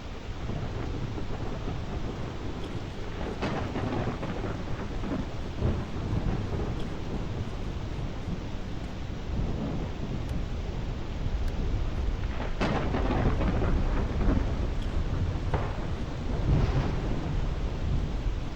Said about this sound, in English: The lightning storm is just like really on point. The weather effect is really great in this game.